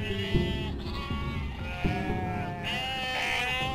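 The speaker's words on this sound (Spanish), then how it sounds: "¿Qué pasa con las ovejas?" Sheep bleat in the video game UnMetal, with several wavering, nasal bleats overlapping one after another against a busy game soundscape of thumps and effects.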